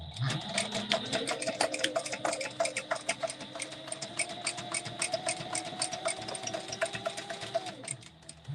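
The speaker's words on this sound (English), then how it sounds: "we're going to stay stitch this down" A sewing machine runs steadily while stay stitching fabric for a retro sling bag, its fast even needle clatter continuing close and alone for about eight seconds before stopping.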